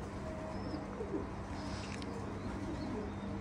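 Pigeons coo softly and at a distance, a few low, rounded calls over steady background noise with no talking.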